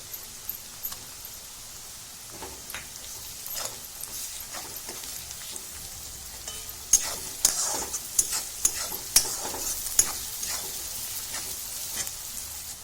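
Onion sautéing with ginger-garlic-green chili paste for pav bhaji in a pressure cooker, a soft steady sizzle punctuated by sharp metallic scrapes and taps of a spoon, growing busier in the second half.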